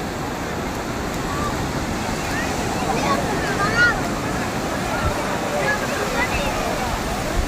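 Sea waves at Somnath beach in Gujarat make a continuous broad roar of surf, with wind buffeting the microphone throughout.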